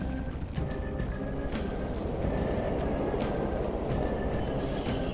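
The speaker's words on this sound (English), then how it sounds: "The train's totally running." Subway train rumbling through Mementos in Persona 5, a low steady rolling drone with periodic clacks and brief high clicks, sounding continuous and moderately near.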